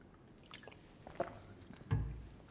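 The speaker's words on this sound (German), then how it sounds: "Vielleicht einen Schluck Wasser zwischendurch." A quiet sip of water taken during a talk, with a soft slurp, small mouth and swallowing sounds and a light clunk as the glass is set down near the end, all close and faint.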